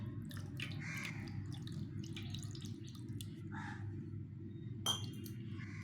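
Ganga water poured over a small Gopal deity idol during a bathing ritual, giving light splashing drips and clinks of metal or glass over a steady low hum, with a few brighter splashes, one near the end.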